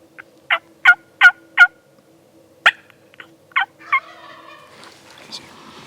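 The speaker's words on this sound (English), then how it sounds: "Don't want to just keep forcing a gobble out of him, you know?" A wild turkey gobbles in bursts, three loud rolling gobbles close together and then a couple more spaced calls, set against a steady low hum in the outdoor quiet.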